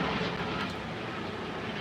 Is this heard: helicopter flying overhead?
yes